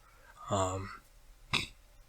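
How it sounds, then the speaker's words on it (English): A single throaty burp from a close, quiet speaker, low and rumbling for about half a second, followed a moment later by a short, sharper vocal sound in a hushed, soft-spoken setting. "Excuse me, I had a burp."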